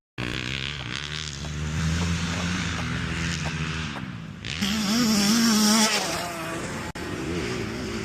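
A motocross motorcycle's engine revs and winds up loudly as the bike rides faster into a corner during a private riding lesson, with a steady close drone, a brief dip in throttle, then a harder rise.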